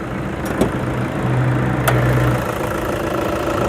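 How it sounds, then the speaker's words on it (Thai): A 2013 Toyota Hilux Vigo double-cab pickup's diesel engine idles steadily up close, a constant low rumble with even knocking and a couple of faint clicks. "เสียงเครื่องยนต์เดินเรียบเสมอดีนะคะ"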